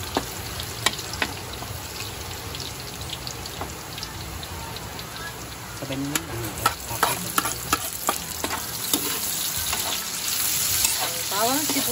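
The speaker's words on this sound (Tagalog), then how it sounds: "magigisa na siya dito ng ricados" Softened chicken feet being sautéed with garlic and onion in a pan: a steady crackling sizzle runs throughout, and a utensil stirs and scrapes in brief clustered strokes that thicken toward the end, with no talk.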